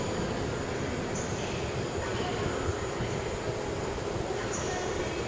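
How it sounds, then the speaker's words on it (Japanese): A Spacia Nasuno limited express train, six cars, rolls into platform 9 at Utsunomiya Station with a steady rumbling roar and faint metallic squeals, heard from the platform at moderate distance. "9番線には全車指定のスペーシア那須野号が到着いたします。"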